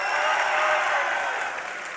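At a Dreamhack Winter 2012 League of Legends event, an esports crowd cheers and applauds for CLG.EU, a loud sustained roar that gradually tapers off.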